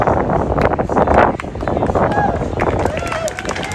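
A rally crowd honoring John Lewis claps and cheers with whoops, a dense, continuous wash of applause and shouting that stays loud throughout with wind noise underneath.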